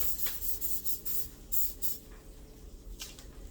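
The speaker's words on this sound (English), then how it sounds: "And now I am going to spray my baking dish with oil." Several short hissing bursts of aerosol cooking oil spray onto a baking dish, close by, in quick succession with brief pauses between them.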